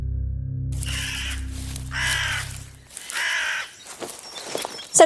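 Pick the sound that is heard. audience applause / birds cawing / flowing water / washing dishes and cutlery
birds cawing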